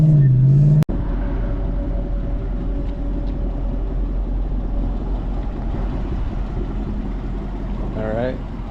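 Steady, continuous road and engine rumble from inside a 2014 Ford Mustang GT riding on new Ford Racing struts and Eibach Sportline springs, with a brief voice at the start and a faint rising rev near the end.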